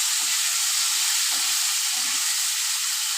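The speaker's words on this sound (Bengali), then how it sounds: "এবার আমি আলু আর কলাটা একটু ভেজে নেব" Potato and green banana pieces fry in oil in a pan, giving a steady, even hiss of sizzling with a few faint soft stirs underneath.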